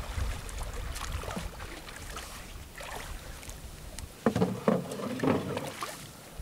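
Kayak paddle strokes on Mallacoota's Top Lake, a few soft splashes and water swirls standing out near the end over steady low wind rumble, fairly quiet and close.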